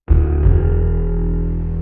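Orchestral bass layered with a deep, powerful synth bass carrying a gritty edge, processed with chroma glow and a room widener for a spacious feel; a single sustained low note swells in loudly and holds without any talk.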